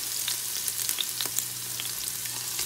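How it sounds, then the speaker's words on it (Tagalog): Garlic sizzles in hot oil, a steady close frying hiss dotted with small pops and crackles, moderately loud with no voices. "make sure the oil is hot. And then we can put our garlic."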